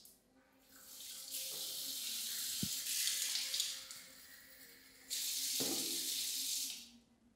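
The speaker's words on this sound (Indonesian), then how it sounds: "Selanjutnya saya akan coba suhu airnya kalau kerannya saya fullkan ke kiri." Water gushes from a fully opened faucet fed by an Ariston electric water heater, a steady loud hiss that briefly eases midway before surging back strongly, then cutting off near the end.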